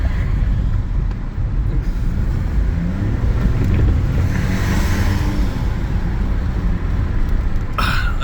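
A car passes in suburban road traffic near a light, a loud broad rumble with wind buffeting the microphone that swells in the middle and fades, no talking.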